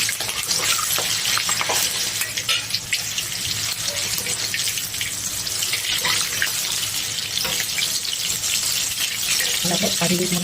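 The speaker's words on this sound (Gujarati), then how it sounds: "પહેલાં આપણે મરચાં તળી લઈશું." Green chilies frying in hot oil for dal vada, a dense continuous hiss and sizzle filling the whole stretch, loud and close, with a watery rushing quality throughout.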